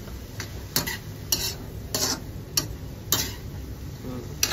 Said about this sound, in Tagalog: So ngayon ay atin na pong hahaluin ang ating sitaw.